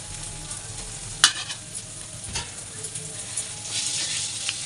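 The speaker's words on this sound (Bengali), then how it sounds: "এবারে আমি এই গুঁড়ো মশলাগুলো দিয়ে দেবো" Ground spices hit a pan of fried garlic-onion paste, giving a steady sizzle with scraping stirs and a couple of sharp clanks of a utensil against the pan, close by.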